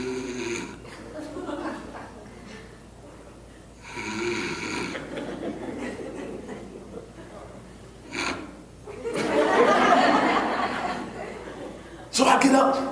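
A man imitates snoring with his voice, a few rasping, breathy snore sounds at close range amid chuckles and some talk.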